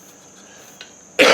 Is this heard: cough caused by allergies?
yes